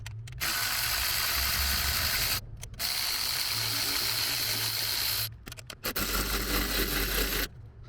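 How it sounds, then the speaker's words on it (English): A ratchet fitted with a 13mm socket works loose an alternator bolt on a 6.2L V8, steady close mechanical clicking that breaks off for short pauses between bursts, no talk. "It's a 13mm socket to get that disconnected."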